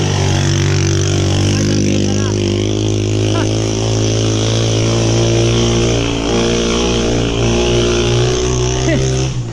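A heavy motorcycle engine runs steadily and loudly close by for the whole stretch, a deep continuous drone with slight shifts in pitch, while people talk faintly beneath it.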